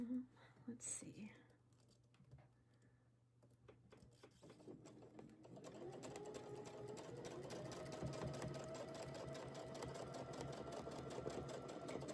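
Quiet rapid whirring and ticking of a sewing machine stitching a flower design, starting after a few seconds of faint talk and soft handling noises, then running steadily and continuously.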